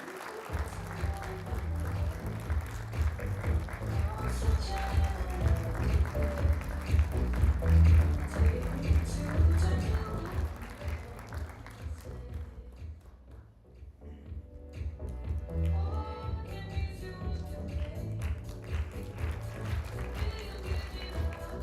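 An audience at an awards ceremony claps loudly and continuously, dipping briefly midway before the applause swells again.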